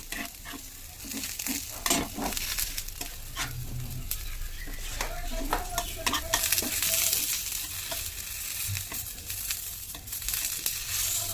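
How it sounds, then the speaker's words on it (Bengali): Eggplant fries in a pan alongside onions and chillies, a steady sizzle broken by repeated scraping stirs and clanks of a spatula against the pan, close and fairly loud throughout. "আর বেগুনটা আরও কিছুক্ষণ ভেজে নেব"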